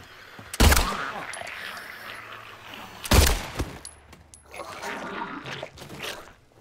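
Two heavy gunshots, a few seconds apart, boom out in the Silent Hill 2 Remake, each a loud, sharp blast over a murky ambient background with rustling game sounds in between.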